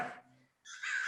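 Crows caw in a backyard among trees, harsh calls coming in two bursts separated by a brief quiet gap, moderately near and clear with no talking.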